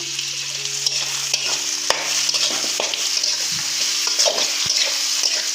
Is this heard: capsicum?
yes